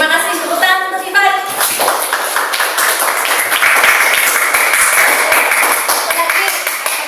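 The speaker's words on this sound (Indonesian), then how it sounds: "Terima kasih, tepuk tangan untuk Ivan." Schoolchildren in a classroom break into sustained applause for a classmate after his reflection, dense and fairly loud clapping running for several seconds, with a brief spoken voice at the very start.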